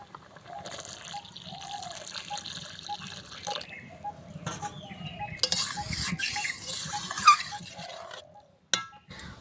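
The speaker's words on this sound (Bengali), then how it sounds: "ডালে দিয়ে দেবো জল।" Water poured into a pot of boiled lentil dal, soft splashing and trickling close by, mixed with light clinks of utensils against the pot.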